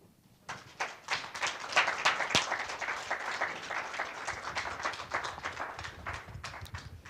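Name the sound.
audience applause for Professor Sandberg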